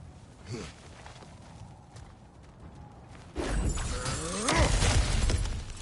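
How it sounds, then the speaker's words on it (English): Wooden or breakable objects smashed apart in God of War Ragnarök, a quiet stretch followed by a loud crash around the midpoint and a second burst of splintering debris near the end. "back to smashing through things for fun and profit"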